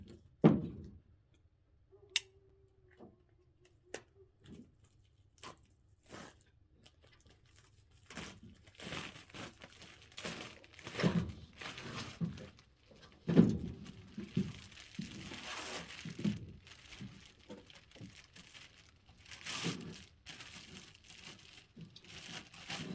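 Plastic wrapping crinkles and tears as it is peeled off aluminum pergola louvers from a louvered kit, a continuous series of close crackling rustles and rips that grow busier and louder toward the end.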